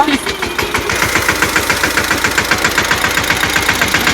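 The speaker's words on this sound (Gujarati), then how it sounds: "ટ્રેક્ટર હે ચાલુ પાછું કરી દીધું" A tractor engine runs at a steady idle on a farm, its rapid, even diesel chugging loud and close throughout, with no talk over it.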